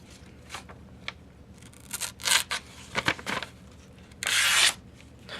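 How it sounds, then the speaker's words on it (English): A kitchen knife is drawn across a sharpening surface in several separate scraping strokes of uneven length, close and fairly quiet, ending in one longer, harsher rasp, with no talking. "Let's see how well I can sharpen knives."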